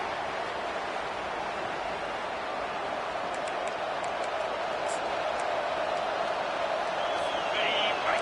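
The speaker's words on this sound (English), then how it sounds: "Decibels rising as the crowd gets behind this defense on 3rd down" A stadium crowd roars on third down in College Football 25, a dense, steady wash of cheering and noise held at an even level throughout, with a few faint whistles on top.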